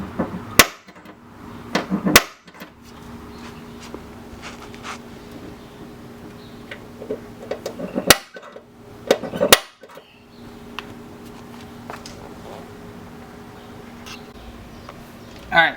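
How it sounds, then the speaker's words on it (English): A center punch struck with a hammer into metal to mark drill holes, giving several sharp metallic taps spread through a quiet workshop background, with no talking. "we're going to be using a center punch to make the start off for the drill"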